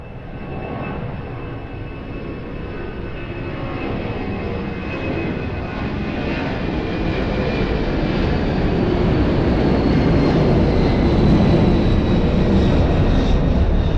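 An aircraft taking off from runway 02 at Lisbon Airport, a loud, continuous jet engine roar that builds steadily in strength across the whole stretch, with no voices over it.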